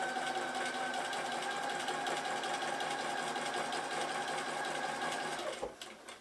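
A sewing machine runs steadily, stitching a chain of half-square triangle patches, a loud even mechanical whir with fine rapid needle pulses that slows and stops near the end.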